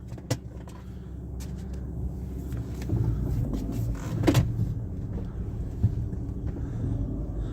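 A Range Rover L322 idles steadily just after starting, a low continuous engine rumble with a few faint clicks and knocks from inside the cabin, no voices.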